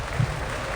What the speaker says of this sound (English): Cheers and shouts, applause and heartbeats.